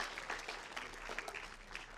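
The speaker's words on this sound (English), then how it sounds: "if we need a round of applause" Audience applause at a grassroots campaign kick-off event, a steady, fairly faint wash of clapping lasting the full two seconds with no clear peaks.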